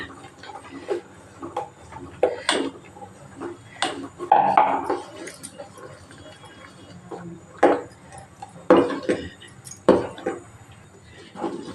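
Rice flour mixture being stirred in a metal pot for amaranth-carrot vadiyalu, giving scattered scraping knocks and light clinks of the spoon against the pot, uneven and fairly close, with no talk.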